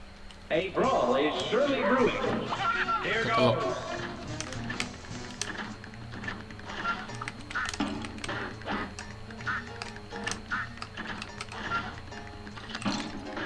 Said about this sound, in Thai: ยิงเป็ดอะไรเพื่ออะไร